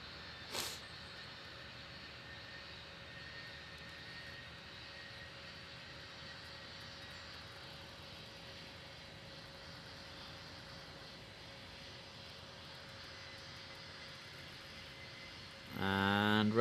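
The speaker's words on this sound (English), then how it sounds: "Runway 36 right, cleared for takeoff." An airliner takes off at Cincinnati airport in a tower-control simulator game, producing a steady, even jet engine roar that holds constant for most of the clip, with one short knock near the start and a louder burst at the end.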